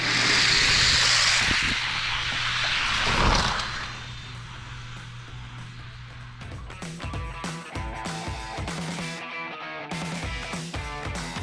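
Hot Wheels toy cars, older fantasy models against newer ones, race down a plastic track: an initial whooshing rush gives way to a rapid series of clattering clicks and rattles as the cars run over track joints.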